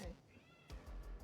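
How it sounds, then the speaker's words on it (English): A house cat meows faintly, with a short rising meow under a low background hum, followed by soft muffled knocks or thumps. "There's a cat meowing."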